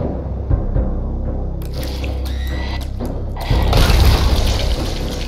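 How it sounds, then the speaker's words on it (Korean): An overlord exploding in the video game Zombie Night Terror, a muffled booming burst with wet, splattering texture over a low rumbling game soundtrack, the blast swelling louder near the end. "오버로드 변신하는 과정에서 바로 폭발 가능해요."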